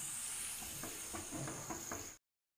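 Water sizzles on a bhakri made with ambadi greens as it sits on a hot tava griddle. The steady, close hiss carries faint soft taps through it, then stops abruptly.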